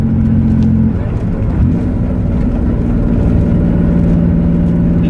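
Inside a race car on the move, a loud steady engine hum and road rumble fill the cabin, with a low droning tone shifting slightly in pitch as it drives.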